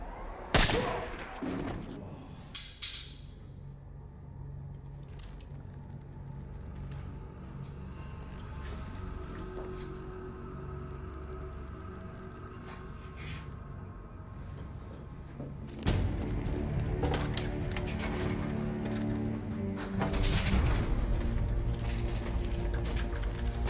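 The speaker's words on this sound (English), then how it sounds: "Gunfire." Several sharp gunshots crack near the start of an action movie scene, followed by a long tense rumbling stretch and a louder, busier swell of dramatic sound toward the end.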